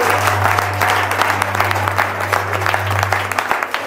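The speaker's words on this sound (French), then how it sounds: "On acclame le Seigneur." A church congregation applauds the Lord at a prophetic deliverance service, with dense, loud, continuous clapping and crowd noise that fades slightly toward the end.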